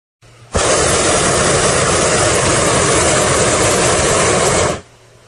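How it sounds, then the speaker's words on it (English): A hot air balloon's burner roars in one loud, steady blast of several seconds, then cuts off abruptly, heard alone. "Hot air balloon."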